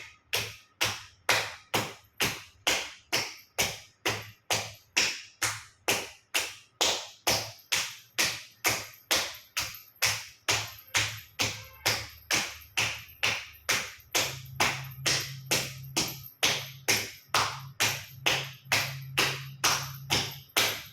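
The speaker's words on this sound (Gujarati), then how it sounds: "બંને સાઈડ પગના તળિયા ઉપર જોરથી ઝાપટ 50 વખત જોરથી તાળી આપીશું" Hands slap the soles of the feet in a yoga exercise, a long steady run of sharp, loud, evenly spaced smacks close by, about two per second, with a low hum in the background and no talking.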